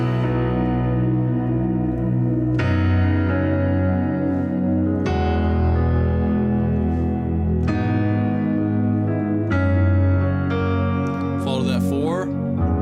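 Keyboard playing the outro of God I Look to You in B: sustained chords with a deep bass foundation, changing every couple of seconds in a slow, steady progression, with a brief higher flourish near the end.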